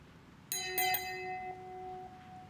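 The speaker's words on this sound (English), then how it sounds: "the first three lines, play the bells instrument" Bells played by live-coded JavaScript ring out in a few quick struck notes, bright metallic tones that sustain and fade clearly over a quiet background.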